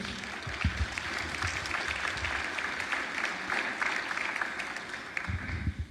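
An audience gives steady, dense applause at a talk on exorcism, with many hands clapping close together. The clapping holds continuous at moderate loudness across the whole stretch.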